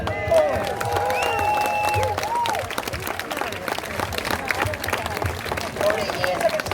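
An audience at a Voice rally in Lismore applauds with moderate, steady clapping, while voices and some tonal sounds run over and through it for the whole stretch.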